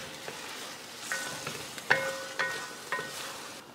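Mixed vegetables frying in a pan with chopped ginger and coriander, a soft continuous sizzle broken by several sharp clinks and scrapes of a spoon stirring against metal.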